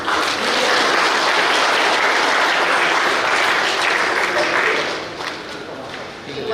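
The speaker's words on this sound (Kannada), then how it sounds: "ಜೋರಾದ ಚಪ್ಪಾಳೆಯ ಮೂಲಕ ಎಲ್ಲರಿಗೂ ಕೂಡ ವಂದನೆಯನ್ನ ಸಲ್ಲಿಸ್ತಾ ಇದ್ದೇವೆ" Loud, sustained applause from a crowd honouring the police at a public event in Kodagu, dense clapping that runs steadily for several seconds before easing slightly toward the end.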